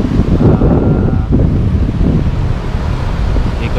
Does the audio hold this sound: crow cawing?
no